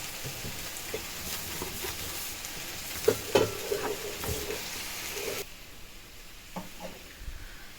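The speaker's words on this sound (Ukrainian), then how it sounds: "коли овочі добре спасірувалися, я їх не засмажую, щоб до темна, але щоб і не було запаху сирих овочів." Vegetables sauté in a pan with a steady, close sizzle, and the stirring brings brief scraping clatters. The frying quiets partway through but keeps crackling softly to the end.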